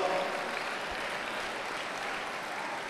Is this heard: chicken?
no